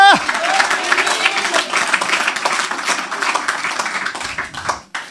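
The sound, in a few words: congregation applause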